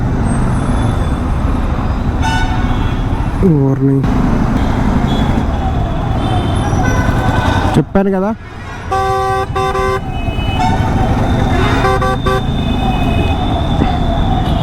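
A road traffic jam after an accident, with a bus and cars idling close by under a steady roar of engines. Several loud horn blasts sound, some short and some held, while someone talks over the din.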